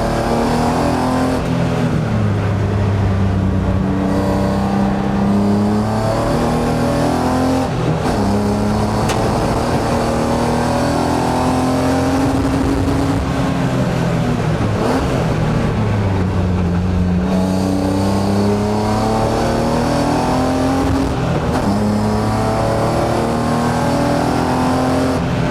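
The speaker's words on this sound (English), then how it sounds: "This car is so fast." A BMW E36 race car engine screams and revs hard on a track, pitch climbing and dropping through repeated gear changes, loud and close, with no voices.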